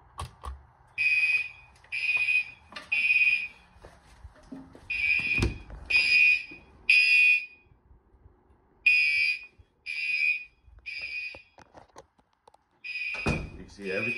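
Fire alarm notification appliances sounding together in a system test, loud synchronized horn blasts in a repeating pattern of short bursts with gaps, accompanied by thunks and occasional talk in the background.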